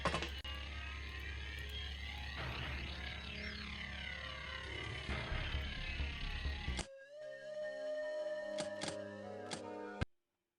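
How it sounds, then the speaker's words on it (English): A gunship aircraft in the video game Xpiratez drones with a dense, steady engine rumble for several seconds, then cuts to quieter tonal game sounds and sharp clicks. "That is a gunship."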